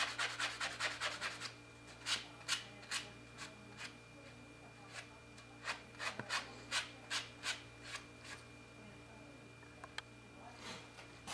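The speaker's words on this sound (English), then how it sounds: "I just take that tandem block and smooth them out" Quick rhythmic rasping strokes of a sanding block smoothing cut wire ends for wire-wrap jewelry, close up, coming in bursts with short pauses between runs.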